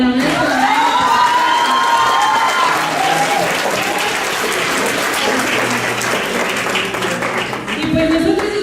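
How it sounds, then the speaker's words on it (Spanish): An audience applauds a speaker at a lecture on social thanatology, with sustained loud clapping mixed with cheers and a few shouts that carry on for the whole stretch. "Aplausos para la maestra."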